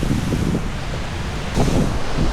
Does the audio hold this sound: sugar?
no